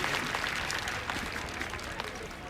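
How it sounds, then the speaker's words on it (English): A crowd applauds cabinet ministers arriving at the National Day Parade 2011, a soft, steady wash of distant clapping lasting the whole moment with faint voices mixed in. "Let's give them all a big round of applause as well"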